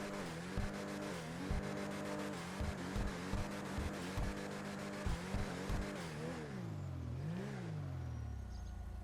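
Engine of an Albany Cavalcade XL SUV in GTA Online, revved in a series of short rhythmic throttle blips with a deep V8-like rumble, then a longer rise and fall before settling to idle.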